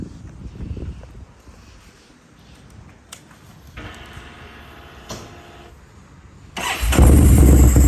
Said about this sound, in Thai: เดี๋ยวมาสตาร์ทให้ฟังเสียงของเครื่องยนต์กันนะครับผม